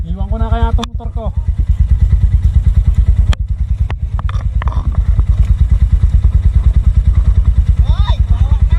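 A motorcycle strains along a rough, deep-rutted dirt road toward a remote waterfall. The engine thumps loudly and rhythmically throughout with occasional clatters, and short bits of a voice come through at the start and near the end.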